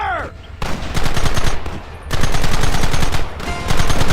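Sustained gunfire in the Red Dead Redemption video game, loud and close, with rapid overlapping shots in bursts separated by brief lulls.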